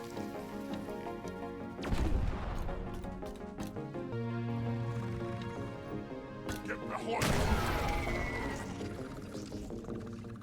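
High explosive grenades go off in the video game Deep Rock Galactic, two loud booming blasts a few seconds apart with crackling debris, over game music and effects.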